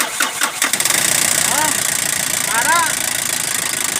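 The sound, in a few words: dead car engine being started and running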